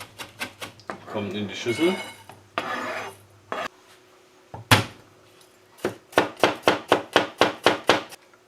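A knife chops fresh rosemary and thyme herbs. Scattered cuts and scraping come first under a person's speech, then a fast, even run of about ten crisp chops rings out alone near the end.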